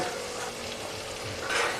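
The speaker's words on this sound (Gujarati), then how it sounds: "આદું, મરચું, લસણની પેસ્ટ તેલમાં સારી રીતે સતળાઈ ગઈ છે, તો આપણે તેમાં મસાલાને એડ કરશું" Ginger, chili and garlic paste sizzling softly in hot oil with turmeric, coriander-cumin and red chili powder for Kathiyawadi undhiyu, a faint steady fry with light stirring, slightly louder near the end.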